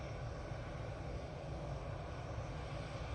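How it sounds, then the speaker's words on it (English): EasyJet airliner arriving from Belfast at Manchester Airport, a steady broad engine roar with deep low rumble holding level and fairly loud throughout, no voices. "So next in we have the EasyJet coming in from Belfast"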